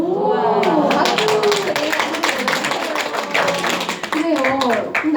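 Children clap together in a lively burst at a church children's class, sharp overlapping claps running through the whole stretch while voices talk and call out over them.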